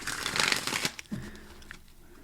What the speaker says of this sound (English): let's shuffle down these cards and get the real response